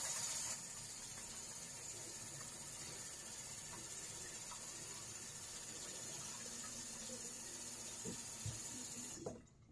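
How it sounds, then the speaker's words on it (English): Hot water from a bathroom sink faucet runs in a steady, faint rush for several seconds during a head rinse after a shave, with a few small knocks and splashes near the end before it cuts off. "Let out the water from my sink. I'm going to give my head a hot water rinse."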